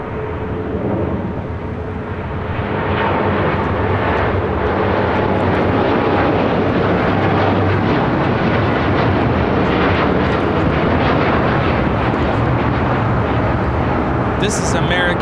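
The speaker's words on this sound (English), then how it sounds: "This is American Airlines Flight 27 taking off to Tokyo Haneda on a 787-8 Dreamliner" An American Airlines Boeing 787-8 Dreamliner takes off at LAX with a loud, steady jet roar that builds early and holds. Voices talk over the engine noise.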